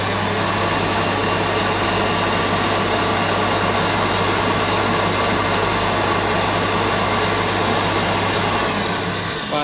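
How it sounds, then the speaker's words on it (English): Loud, steady motor whine of an electric mixer beating tiramisu cream at a moderate speed, running without a break until it eases off at the very end. "and now I'm gonna whisk again. Not full speed."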